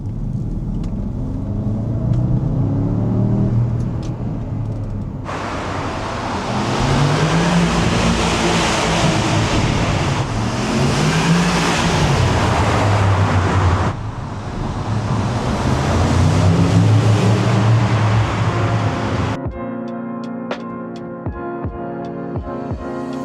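A Porsche Cayenne Turbo 958.1 accelerates in second gear, the engine drone swelling and rising in pitch through repeated pulls under heavy road and wind roar, ending abruptly in a quieter cabin hum with clicks.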